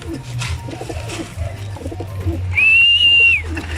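Young pigeons in a breeder loft coo just before feeding, a steady low murmur running throughout, joined near the end by a brief thin whistled tone.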